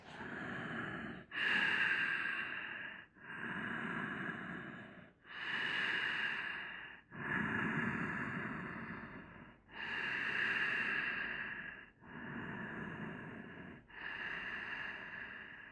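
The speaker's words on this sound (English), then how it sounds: "Inhales through your nose. Exhales out your nose." Slow, deliberate breaths in and out through the nose during a yoga class, about eight long airy breaths each lasting roughly two seconds, close and steady with no talking.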